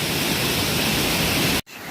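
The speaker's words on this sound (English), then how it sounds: "On top of the waterfall," Dickerson Creek waterfall rushing loudly from the top of the falls, a dense, steady roar of falling water that cuts out briefly just before the end, then resumes.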